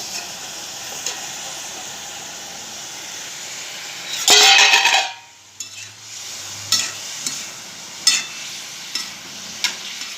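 Masala cauliflower fries in a pan with a constant hiss, broken by a loud burst of sizzling and stirring midway, then quieter crackle and occasional utensil taps.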